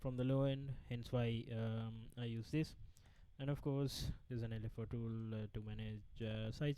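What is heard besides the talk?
No everyday noises stand out.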